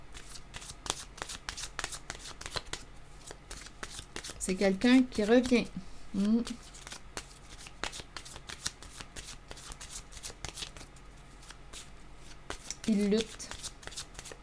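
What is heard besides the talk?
shuffling tarot cards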